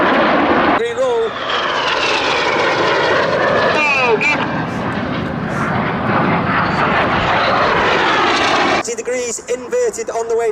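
Red Arrows RAF jets roaring through an air show manoeuvre at Duxford, a loud sustained engine rush with shifting pitch, with a commentator talking over it throughout.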